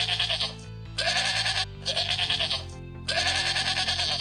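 Goats bleating on a farm in three long, loud wavering calls separated by short gaps, set over a steady low hum.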